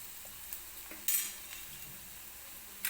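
Onion and dried red chilies fry gently in a pan, a faint, steady sizzle with a few soft stirring clicks and one brief louder scrape, no talking.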